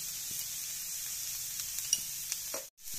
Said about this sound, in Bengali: করে সবজিটাকে আমরা ভেজে নেব